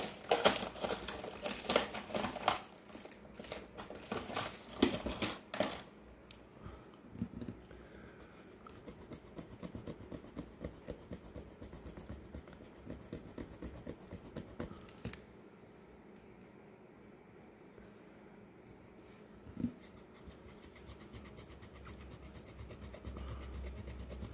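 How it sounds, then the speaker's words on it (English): Fiberglass pen scraping the contacts of a Game Boy Advance SP that freezes on boot, giving close, dry rasping and rubbing strokes in uneven bursts, heavier at first, then lighter and intermittent with short pauses. "if we scrape these, this would actually be a good use of the fiberglass pen"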